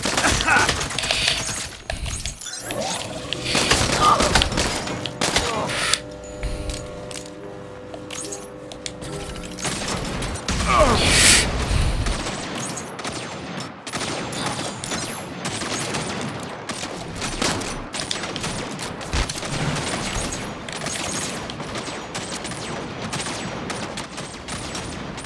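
Enemy gunfire rattles on almost without a break in Saints Row, dense and loud, with crashes and clinks mixed into a busy game soundscape.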